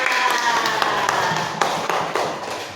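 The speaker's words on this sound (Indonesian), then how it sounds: "ayo beri tepuk tangan untuk kelompok 2" A school class applauding a student group during a lesson: a brisk run of hand claps with a few sharper, louder claps standing out, and voices underneath.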